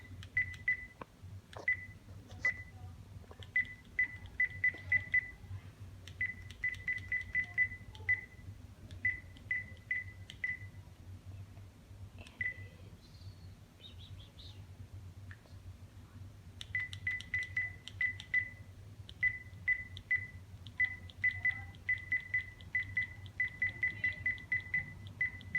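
Repeated short electronic beeps from a microphone setup device while its initial settings are configured, coming in quick bursts and runs of rapid chirps over a low steady hum, with a quieter stretch in the middle.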